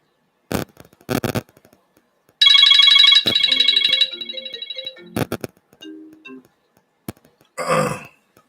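A phone rings and chimes with repeated electronic notification tones, loud and close, with short bursts of nearby noise and a throat sound before and after the ringing.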